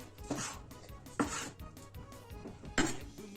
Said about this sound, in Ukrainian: І ось так нарізаю всі помідорки швиденько.